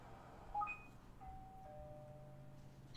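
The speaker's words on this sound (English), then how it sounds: "That is like a real doorbell noise." A single electronic doorbell chime rings out clearly in a quiet room, a few bright descending tones followed by a lingering sustained note over low background hum.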